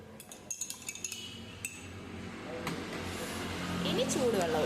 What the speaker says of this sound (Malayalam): കുറച്ച് വെള്ളം ഒഴിച്ച് മിക്സ് ചെയ്യണേ